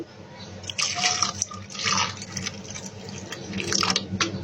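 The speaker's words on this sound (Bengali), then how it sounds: "এবার দিয়ে দিব ঠান্ডা পানি" Cold water pours into a blender jar over lemon juice and black salt for a mint lemon drink, a close splashing stream in uneven surges with dripping between them, and no talking.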